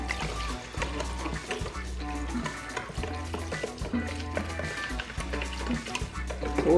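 Fermented water poured into thick gluten-free injera batter in a home kitchen, with a continuous liquid splashing and stirring texture and a low steady hum underneath, moderately loud throughout.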